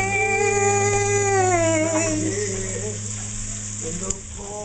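Bacon and onions sizzle steadily in a pan, the onions beginning to caramelize after the bacon has rendered, a continuous close frying hiss with a faint clink near the end as a voice talks over it.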